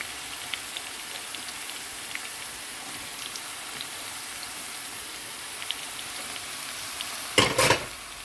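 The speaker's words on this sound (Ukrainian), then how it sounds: "Також трохи припускаю, трохи його тушкою на сковорідці." Onion and bell pepper sizzle gently as they stew in a frying pan for borscht, a steady soft crackle throughout with a brief louder scrape near the end.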